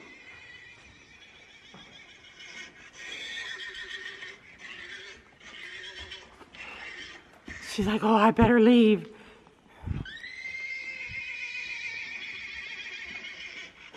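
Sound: recorded horse neighing sounds played to horses

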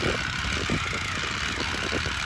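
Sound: Jiffy ice auger engine running

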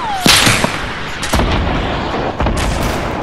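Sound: shotgun firing in Fortnite video game

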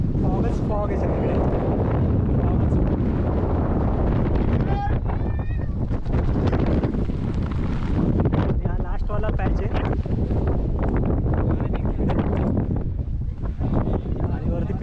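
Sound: strong wind on a monsoon fort trek

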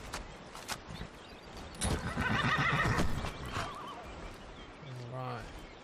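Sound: horse neighing in video game Skyrim

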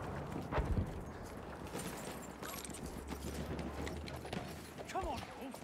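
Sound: horse hooves galloping, from a video game

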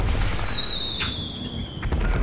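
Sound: firework launcher fireworks in video game Grand Theft Auto V

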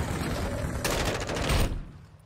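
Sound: gunfire in a video game, several players shooting

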